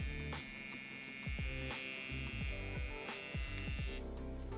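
An InkChum wireless tattoo pen runs with a steady electric buzzing hum close by. Rhythmic mechanical clicks pulse through it, and the pitch shifts slightly near the end.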